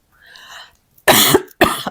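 Two sharp, loud coughs close to the mic, coming after a short stretch of faint sound, with a brief pause between them.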